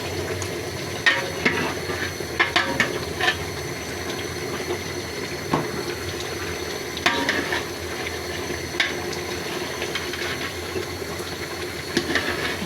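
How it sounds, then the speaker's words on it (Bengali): Beef for Qurbani being stirred in a big cooking pot with ground spices, a steady wet sizzle and hiss with soft scraping clatters recurring every second or two, close and moderately loud, no talking. "নাড়াচাড়া করে দিব গরুর মাংসটা চতুর্দিক থেকে।"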